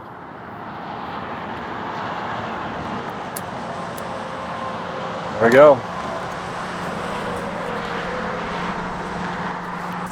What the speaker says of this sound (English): Sorry about all the traffic noise. I am right next to the interstate.